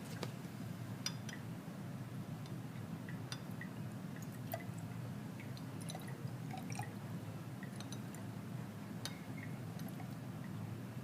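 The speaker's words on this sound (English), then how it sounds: "we're going to dissolve these in a small amount of water" Chemical samples being dissolved in a small amount of water in a lab, with sparse faint drips, clinks of glassware and light liquid sounds scattered over a quiet hiss, no talk.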